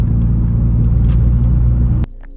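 A Nissan S13 engine running, a loud close steady low rumble that cuts off abruptly near the end, leaving faint background sound.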